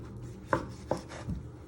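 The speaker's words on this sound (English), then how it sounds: "then you just want to chop them into pieces" A knife chops tomatoes into pieces on a board, three distinct close cuts at an uneven pace, fairly quiet with no talk.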